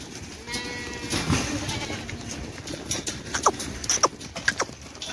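Sheep and goats in a village livestock pen bleat in short, overlapping calls at moderate distance over rustling and shuffling of hooves.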